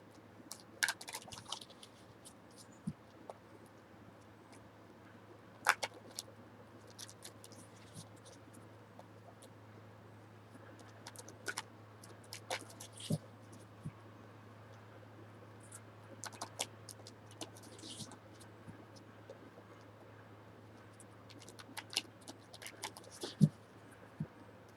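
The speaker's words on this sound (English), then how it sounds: "Just give me a time to shuffle the cards." Tarot cards being shuffled by hand during a spiritual reading, heard as faint, scattered papery flicks and taps over a steady low hum, with no talk.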